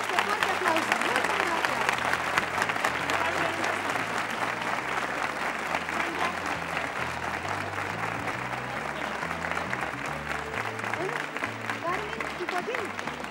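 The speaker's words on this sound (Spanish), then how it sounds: "Y a este fuerte aplauso" Studio audience on a television game show applauding loudly and continuously for over thirteen seconds, a dense crowd clapping with music playing underneath.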